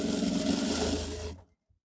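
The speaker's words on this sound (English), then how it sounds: "So carefully top stitch all the way around." Sewing machine running steadily while topstitching around a pair of unisex joggers trousers, a close continuous mechanical whir that stops abruptly, followed by a faint click.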